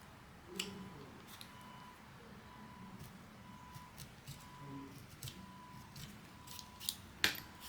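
Scissors snip through coaster material for fall-themed coasters, a run of small crisp cuts in an irregular rhythm, close and fairly quiet against a low hum.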